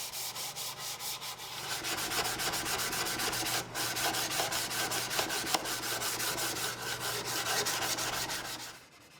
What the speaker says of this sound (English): After that, it's time to sand, making sure I get all the sharp edges